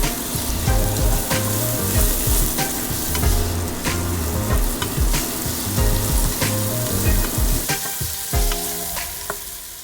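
Beef and onion soup mix sizzling loudly in a pot for cabbage soup, stirred with repeated scraping and clattering strokes throughout, close and busy with no talk.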